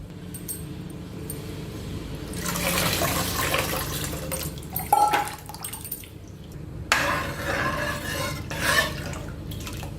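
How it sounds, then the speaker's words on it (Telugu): Tamarind juice and water are poured into a pot of dal for a village-style pappu charu. Close liquid pouring comes in two main bursts with splashing and dripping between them, and nobody speaks. "ఆ చింతపండు రసంని ఇందులో పోసి ఈ పిప్పులో ఇంకొంచెం నీళ్లు వేసి ఇందులో వేసుకోవాలి"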